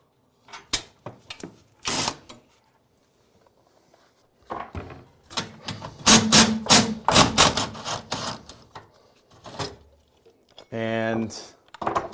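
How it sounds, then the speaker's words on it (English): Metallic clanks and taps sound as a bearing plate is popped off a garage door torsion spring assembly, coming in sharp separate hits and short clusters, with someone speaking between them. "So now we're just going to pop off the bearing plate."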